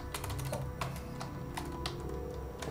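Keys tapped in short uneven bursts on a computer keyboard while playing Oxygen Not Included, close and moderately loud over a steady low background hum.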